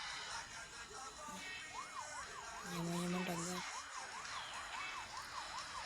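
An ambulance siren passes with a steady wailing up-and-down tone across a busy road, loud and fairly near over constant traffic noise, with a brief horn-like tone partway through.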